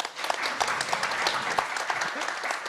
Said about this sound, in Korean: 박수를 맞이해 주십시오.